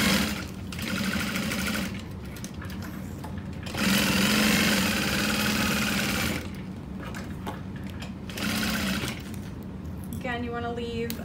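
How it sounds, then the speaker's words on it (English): A sewing machine bastes a wristlet wallet in repeated runs, its close motor whirring in long bursts separated by short pauses, with a voice talking at times between stitching. "now we're gonna baste"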